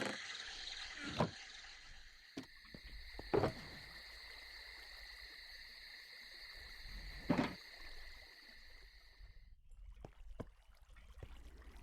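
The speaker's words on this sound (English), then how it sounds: "I feel like the ambient noises in the swamp are at least a little bit quieter in Ambience 3." Quiet swamp ambience in a video game: a soft watery bed with a sustained high tonal drone, broken by a few sharp knocks and splashes spaced several seconds apart, fading out near the end.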